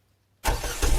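A fast car engine starts abruptly after a short silence and revs loudly, rising and roaring up close for the rest of the brief moment.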